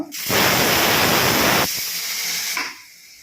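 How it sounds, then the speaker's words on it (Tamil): A pressure cooker cooking dal releases a loud, close burst of hissing steam that lasts about a second and a half, then drops to a softer hiss before fading away. "இப்போ வந்து பருப்பு குக்கரில் வெந்துட்டுருக்கு"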